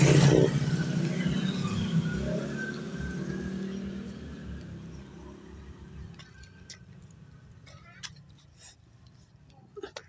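A vehicle passes close on a road, its engine loud at first and then fading away over several seconds, leaving faint background noise with a few small clicks.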